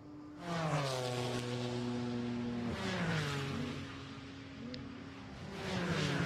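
GT4 race cars roar past the pit straight at Imola during a race, engine notes rising and then falling as they pass close by, with another car closing in at the end.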